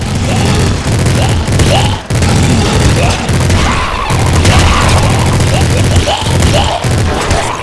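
Minigun in Nuclear Throne firing without pause, a dense, loud, continuous rattle of rapid shots with booming hits and explosions, lasting throughout with only brief dips.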